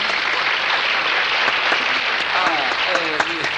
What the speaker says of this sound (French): Allez, messieurs, dames, on l'applaudit bien fort.